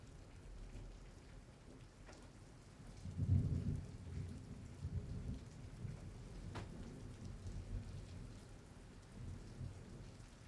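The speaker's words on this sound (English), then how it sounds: "Listen to that thunder roar." Thunder rolls and rumbles through steady rain during a summer thunderstorm, with one heavier low boom partway through and softer distant rumbles continuing over the constant patter.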